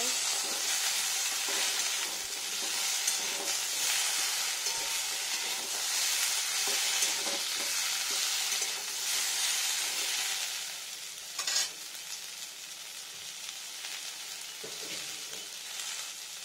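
Pointed gourd (potol) slices fry in hot oil with a steady, close broadband sizzle that runs throughout, with a brief louder crackle and a few faint clinks near the end.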